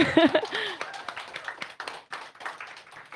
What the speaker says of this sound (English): we'll give a little round of applause for Caleb